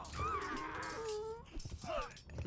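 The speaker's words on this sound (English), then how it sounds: "Donkey scream." In the Age of Mythology strategy game, a donkey brays in two drawn-out, wavering cries close up: one long call, then a shorter one after a brief pause.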